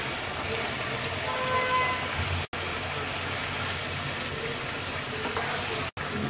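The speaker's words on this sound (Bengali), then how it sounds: "বলক চলে আসছে, মাছ দিয়ে দিচ্ছি।" Koi fish dropped into a pot of boiling tomato curry, a steady close bubbling and sizzling hiss that runs throughout, with brief dropouts.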